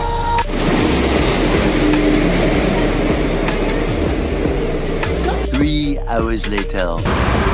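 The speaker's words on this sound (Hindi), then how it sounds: "अहमदाबाद एक्सप्रेस नाम की ट्रेन है मेरी जो प्लेटफॉर्म नंबर तीन पे थोड़ी देर में आने वाली है" The Ahmedabad Express pulls into a railway station platform with a loud, steady rumble of wheels and rail noise, shrill squealing brakes toward the end, and people talking underneath.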